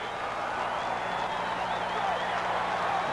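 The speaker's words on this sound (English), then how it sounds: "This crowd is still roaring over the Alabama score" A football stadium crowd at a 1980 North Carolina at Oklahoma college game roars in a steady, loud, unbroken wash of noise with no clear breaks.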